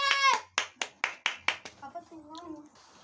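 Six or seven crisp, evenly spaced hand claps at a small celebration of reaching 100 subscribers, close and fairly quiet, with a voice heard just before and after the claps.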